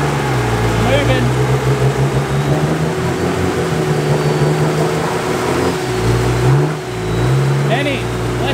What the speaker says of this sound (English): Benny, less wheel spin.